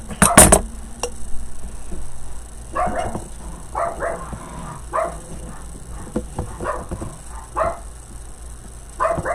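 Dogs at a small grooming shop attached to a home bark and yip in short, scattered bursts, with one loud close bark at the start and softer intermittent barks after.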